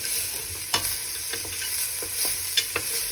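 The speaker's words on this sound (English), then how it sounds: "Gonna stick all of the onion, garlic, ginger, 5 spice, everything like that into the bowl. We're gonna fry this up." Onion, garlic, ginger and five spice fry in a pan for a traditional Malaysian chicken curry, with a steady close sizzle broken by several sharp clacks of stirring.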